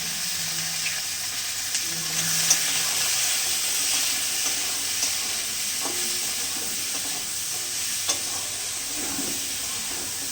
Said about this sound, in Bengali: রসুন আর লঙ্কাগুলো ভাজা হয়ে গেছে, এবার আমড়াগুলো দিলাম, হলুদ দিলাম, অল্প একটু চিনি দিলাম